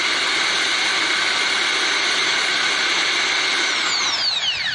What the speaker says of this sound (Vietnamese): Rồi đó là cái máy khoan.